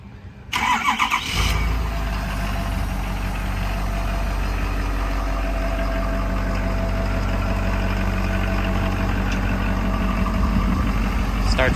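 A 2015 Ford F250 pickup starts remotely on a cold day of about 40 degrees, a short crank catching after half a second, then settling into a steady, rumbling idle that holds to the end, with someone talking nearby.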